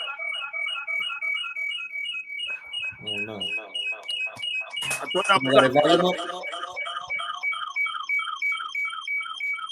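A phone rings with a repeating electronic ringtone melody that plays throughout, while several people talk over it with surprised reactions.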